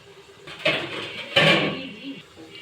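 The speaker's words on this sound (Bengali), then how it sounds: "এখন সুন্দরভাবে ঢাকনা দিয়ে আমি মরিচটা সিদ্ধ হওয়ার জন্য এখানেই ঢেকে দিব" Lid set onto a cooking pot of chillies left to simmer, two clattering metal knocks about a second apart, close and moderately loud, with faint kitchen noise between them.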